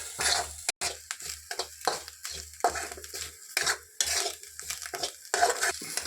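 Grated coconut roasts in a little coconut oil while a spoon stirs it repeatedly, making close, uneven scraping and clinking strokes over a soft crackle and a faint low hum.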